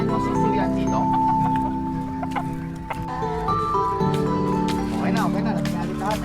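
Pet chickens and chicks clucking and calling steadily at close range during feeding, as a person talks over them throughout.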